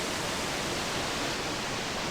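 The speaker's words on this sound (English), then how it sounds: "there was all kinds of waterfalls, but not nearly as massive as these are" Massive waterfalls near the Sturgis Motorcycle Rally route roar as a dense, unbroken rush of water, loud and steady throughout without any voices.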